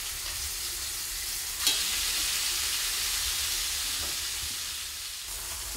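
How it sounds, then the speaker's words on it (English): Steak searing in a smoking-hot frying pan gives off a steady, bright sizzle, close and continuous, with a small pop near the start and no voices. "You can hear it sizzle."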